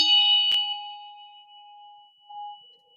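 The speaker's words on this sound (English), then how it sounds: "I had to ring it. I can't show you a bell and not ring it." A solar plexus healing bell is struck once, giving a bright metallic ding that rings on as a clear sustained tone and slowly decays, with no talking.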